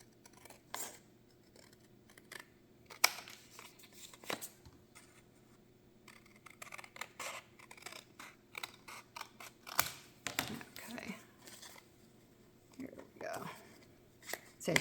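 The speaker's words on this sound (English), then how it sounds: "Get a larger pair of scissors here." Scissors snip through paper in quick irregular clicks and crunches, close by, with faint voices in the background.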